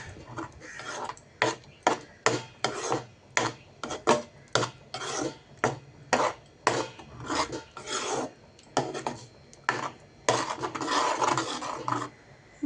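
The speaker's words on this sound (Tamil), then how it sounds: "ஃபுட் கலர் போட்டு நம்ம இதை நல்லா கிண்டிக்கலாம்." Halwa with food colour is stirred in a pan in repeated rasping scrapes. About twenty strokes come in a steady rhythm, close and fairly quiet, with no talk.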